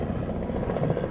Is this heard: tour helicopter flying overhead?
yes